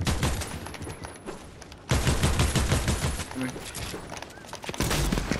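Rapid gunfire in an online multiplayer shooter, a dense crackling burst that surges loudly partway through and keeps rattling under voices chatting over it.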